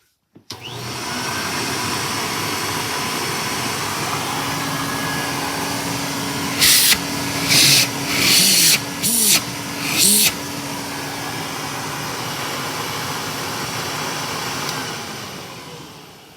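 A late-1960s Electrolux vacuum cleaner motor, nearly 60 years old, runs as a steady, loud whine for most of the clip. Several short, louder hissing bursts cut in partway through, and there is no talk over it.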